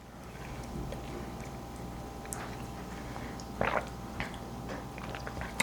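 Someone bites into and chews a homemade candy cane Christmas cookie, soft crunchy chews standing out close up over a steady low room hum.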